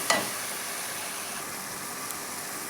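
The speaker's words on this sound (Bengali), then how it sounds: "এবারে ভালো করে মশলাটাকে 5 থেকে 7 মিনিট আমি কষিয়ে নেব।" Spice paste for a Bengali-style chicken dish fries in oil in a pan, giving a faint, steady sizzle with a soft clack near the start and another light tap later.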